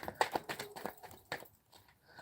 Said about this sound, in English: this is like the longest part, is shuffling